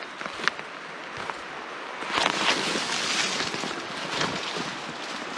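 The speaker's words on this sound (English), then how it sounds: "I hear the river." A river flows through Linville Gorge, a steady broadband rush heard from a distance on a backpacking trail, mixed with gusts of wind that swell and fade, with no voices.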